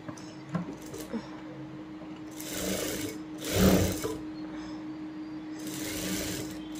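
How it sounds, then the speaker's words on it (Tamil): A sewing machine stitches the gathered pleats of a puff-sleeve blouse, its fast whirring running in short bursts with small pauses between them. It sounds close and moderately loud, with no voices. "டபுள் ஃபுட் வச்சு ஸ்டிச் பண்ண வேண்டியதான் இந்த ஃப்ளிட் எல்லாத்தையும்"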